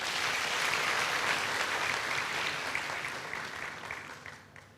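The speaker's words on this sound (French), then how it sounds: "Je vous demande de l'applaudir encore." An audience applauds a Guinean entrepreneur at a talk on African schooling, a broad sustained roar of clapping that swells early and then gradually fades toward the end.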